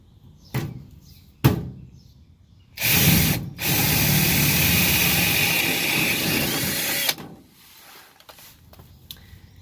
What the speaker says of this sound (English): take a drill and open up the hole to the appropriate size